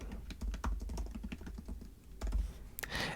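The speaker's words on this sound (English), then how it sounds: "Type in the title Research Paper Topic" Typing on a computer keyboard while entering a title into an online journal entry: a steady run of close, crisp key clicks with a few heavier thumps, continuous throughout.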